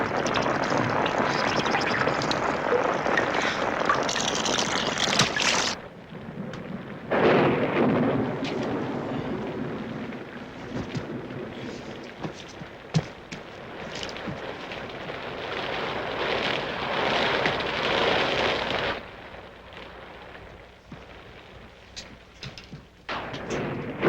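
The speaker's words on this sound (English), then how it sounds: "Don't worry about the thunder, honey." Thunder booms and rumbles through a storm with rain, in loud broad surges that break off, return and then ease into a quieter, softer patter near the end.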